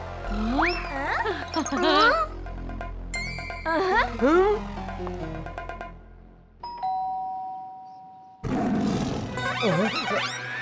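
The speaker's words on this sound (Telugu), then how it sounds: "అరే, ఈ సింహం అరుపు ఎక్కడి నుంచి?" An animated cartoon lion lets out a loud, broad roar near the end. Before it come several cartoon voice and effect sounds, including a sustained chime-like tone.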